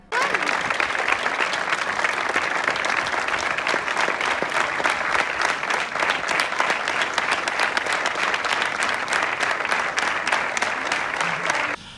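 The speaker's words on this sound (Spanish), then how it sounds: "hubo un aplauso en memoria del doctor Díaz Castellano" Sustained applause at a hospital in memory of Doctor Díaz Castellano, a dense, steady clapping from a gathered crowd that holds evenly for about twelve seconds before stopping.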